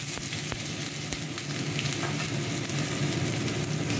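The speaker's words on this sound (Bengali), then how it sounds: "এবার এতে আদা লঙ্কা রসুন বাটা একটু দিয়ে দেবো" Ginger, green chili and garlic paste fries in a pan for a chicken curry, giving a dense, continuous close sizzle with a few sharp crackles and faint stirring, no voices.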